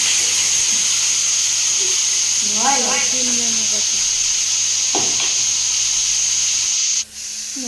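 Potatoes frying in oil in a wok make a loud, continuous hissing sizzle that runs throughout, with brief voices over it and a sudden dip near the end.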